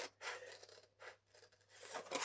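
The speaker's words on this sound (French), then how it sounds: "vous munissez de votre ciseau et vous découpez là, là, là, là" Scissors snipping paper to cut out a small Easter basket, a few quiet crisp cuts with short pauses between them, alone with no talk.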